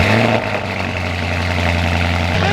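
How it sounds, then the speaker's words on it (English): Lamborghini Urus engine running loud and close, a steady deep rumble with a brief rev at the start before settling into an even idle drone. "Urus is so loud!"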